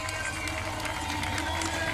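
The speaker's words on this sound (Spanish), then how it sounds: "del batir de palmas del público" Spectators line the final metres of the 2013 Kitzbühel World Triathlon Series race, clapping and cheering in a continuous crowd roar heard at a distance, with a commentator talking over it.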